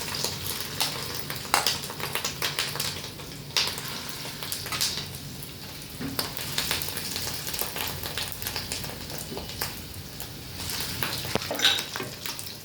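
Fish roe fritters fry in a pan with a steady, dense sizzle and crackle that carries on without a break, close and even, with occasional sharper pops and faint clinks.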